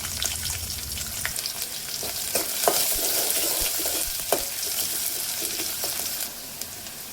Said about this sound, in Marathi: जीरा, कढीपत्ता, एक कांदा कापून घेतलेला टाकूया।